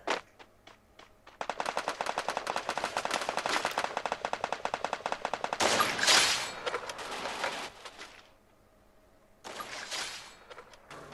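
Gunfire in the video game Free Fire comes in long, rapid automatic bursts, a dense rattle broken by short pauses before another burst near the end.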